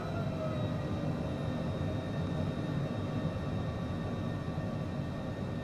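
A jet airliner taxiing on a jungle airstrip in Microsoft Flight Simulator gives a steady, loud engine roar with a faint high whine, constant throughout, with no talking.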